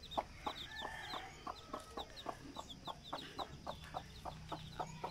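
A hen clucking in a village yard, a rhythmic series of short, fairly faint clucks repeating about every third of a second, with small chick-like peeps high above and no speech.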